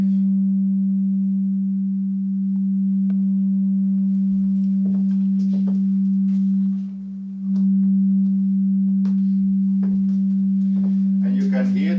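A synthesizer plays a plain sine wave, a loud, steady, dull low tone that holds for about twelve seconds with one brief dip in level and a few faint clicks in the background.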